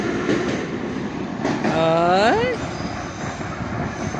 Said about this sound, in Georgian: აქეთ ძველი მატარებლები არიან.